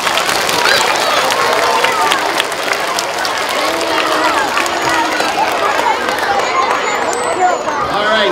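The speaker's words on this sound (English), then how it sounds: "let's give our fourth graders a big round of applause" A school audience applauds fourth graders at a winter concert assembly: dense, steady clapping mixed with cheering and excited chatter, sustained and loud throughout.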